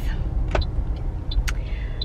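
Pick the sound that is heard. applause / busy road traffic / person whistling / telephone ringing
busy road traffic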